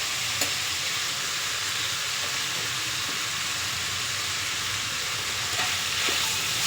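Vegetables and peas cook in a hot pan for vegetable fried rice, giving a steady, close, loud sizzle with a few faint stirring clicks and no talking.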